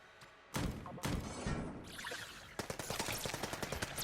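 Uzi fire in the top-down shooter Enter the Gungeon: a few heavy early bursts give way to a rapid, even stream of quick shots that grows denser toward the end.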